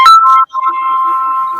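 Phone ringtone going off during an interview, a loud, clear electronic tone that breaks briefly and then sustains alone without talk.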